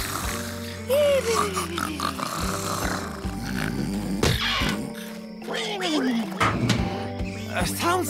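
A cartoon pig oinks and grunts in a pig pen, giving rough, squealing grunts and sliding whines mixed with music and other cartoon effects, with voices at points.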